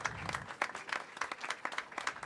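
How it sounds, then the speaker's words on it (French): Applause at the trophy ceremony of the French Cake Design Championship: a dense, brisk round of many hands clapping, fairly close and steady, with no talk over it. "applaudissements, bravo"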